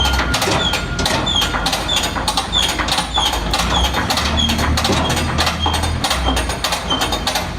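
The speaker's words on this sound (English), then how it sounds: "Pulling it forward with the ropes, pulling it back with the lever." Apron chain on an ABI ground-drive manure spreader being ratcheted back with a lever, giving a steady run of loud metallic clicks and rattles close by, with no talking.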